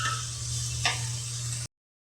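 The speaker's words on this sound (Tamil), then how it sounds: "தக்காளியும் வெங்காயமும் நல்லா வதங்கிட்டு இருக்குது." Onions and tomatoes sautéing in a pan for fish curry, a steady soft sizzle with a brief stir of a utensil partway through, close and without talk.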